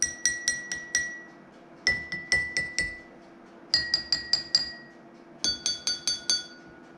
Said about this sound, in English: tap the side of the glass with your pen or your pencil